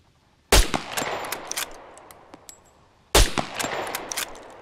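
Two loud rifle shots in the survival game SCUM, fired from a Hunter rifle, each a sharp crack followed by a ringing metallic tail and faint clinks, spaced a few seconds apart.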